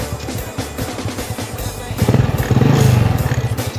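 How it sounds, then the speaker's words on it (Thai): A Honda Wave 110i kick-start motorcycle being started, with a clattering kick and mechanical rattle that gives way to a loud, close engine catching and idling in a rapid steady putter. "ยังไงเราก็ต้องสตาร์ทเนี่ยครับรถคันนี้เป็นรถสตาร์ทเท้านะครับผม"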